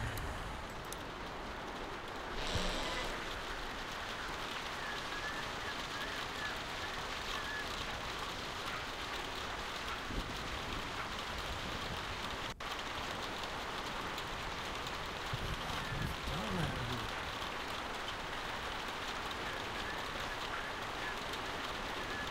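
Steady rain falls outside a barn in the video game The Walking Dead, a dense, even hiss of drops on surfaces lasting throughout with a faint low background rumble and no talk.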